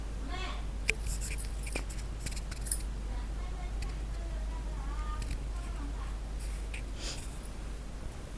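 Scissors snip repeatedly through dress-top fabric during tailoring, with several sharp close cuts standing out over a steady low hum and faint background noise.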